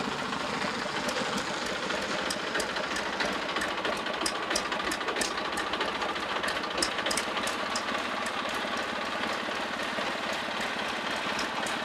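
Tractor engine running steadily with a constant mechanical clatter and rapid rhythmic ticking, fairly loud and close, with no talk over it.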